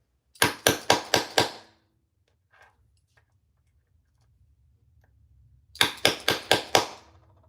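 A hand press sets hardware onto key fobs, producing a quick run of five sharp metallic thunks, a quiet stretch with faint clicks, then another rapid run of five strikes, close and loud.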